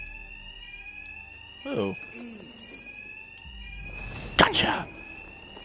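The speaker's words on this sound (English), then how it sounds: "Two-Face's thugs won't hear me over the alarm." An alarm rings steadily through a building in Batman: Arkham Knight, a constant electronic tone under game sounds, with voices speaking briefly over it and a sharp hit partway through.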